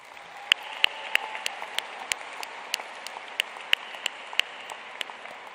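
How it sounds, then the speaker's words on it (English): Scattered clapping at a new student convocation for first-year college students, heard as sparse, separate sharp claps at an irregular pace over a steady low room hum rather than a full ovation. "that deserves a round of applause"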